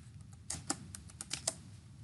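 A few light computer mouse clicks, close and faint, tapping out in a quick irregular series over a quiet room.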